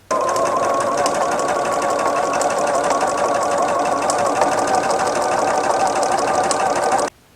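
A sewing machine runs steadily for about seven seconds, stitching around a round fabric basket with a fast, even mechanical whir, close and loud, then stops abruptly.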